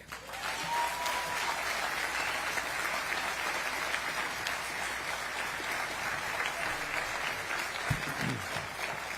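Sustained audience applause welcomes the Eatontown and Oceanport mayors at the Netflix Studios groundbreaking ceremony in New Jersey, steady and dense clapping filling the room for the whole stretch.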